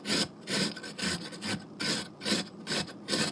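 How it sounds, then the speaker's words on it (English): A carrot rubbed back and forth across a hand shredder, making a steady series of rasping strokes, about seven in a row, each a close, scratchy grating burst. "The carrot shreddings are going inside of the item."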